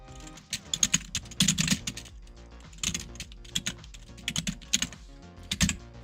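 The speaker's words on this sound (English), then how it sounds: "keyboard is super loud" Fast typing on a very loud, clacky computer keyboard, bursts of sharp close key strikes with short pauses between them, heard alone.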